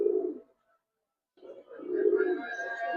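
Gribaz pigeons coo in short low throaty bursts, one call, a brief pause, then a longer rolling coo with faint higher chirps layered on top, close and clear.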